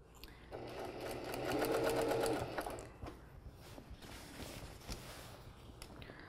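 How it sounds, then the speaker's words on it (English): Sewing machine stitching around a curved kimono sleeve seam: a steady mechanical whir for a couple of seconds, then quieter clicking and handling as it slows and stops. "carefully work your way around that curve, keeping the shirt nice and even with the presser foot"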